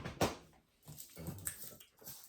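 A dog begging for food gives a few whimpers and soft whines close by. One sharp yelp is followed by quieter, drawn-out cries, with no speech over them.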